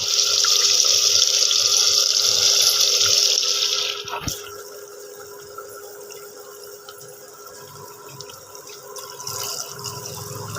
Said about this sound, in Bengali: এইবার বন্ধুরা জল দিয়ে দেবো।